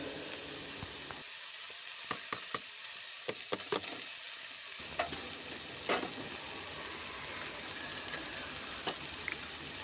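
Drumstick leaf stir-fry with grated coconut being stirred in a pan, giving a soft steady sizzle with scattered sharp clicks and scrapes of the spatula, fairly faint and without talk.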